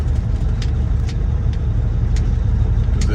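Semi truck with a Freightliner rig nearby, engine rumbling steadily and loud at close range while maneuvering and turning around past parked trailers at loading doors, with faint intermittent high clicks over the low drone.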